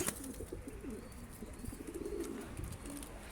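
Soft, repeated cooing of a male Mardin Dumanlı Perçem pigeon in a low rolling rhythm, fairly faint and close, with a little background noise.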